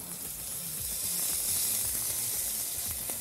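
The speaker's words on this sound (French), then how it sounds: "Posez la côte de bœuf sur le barbecue. Important de la saisir afin de caraméliser les glucides." A thick beef rib steak sears on a barbecue grill, giving a loud, steady, close sizzle with crackling fat that carries on without a break, and no one talks over it.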